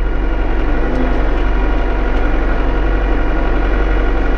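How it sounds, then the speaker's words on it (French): Tractor engine running steadily during sunflower sowing in a field, heard from inside the cab as a loud, constant low rumble with vibration and no talk. "Alors ça fait du bruit dans le tracteur, hein."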